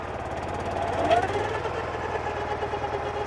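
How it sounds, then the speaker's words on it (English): A BCS 630 WS flail mower's engine runs steadily at close range, a continuous low knocking rumble that swells slightly as the clutch engages, with talk over it. "the flail mower will start and it will start to go forwards"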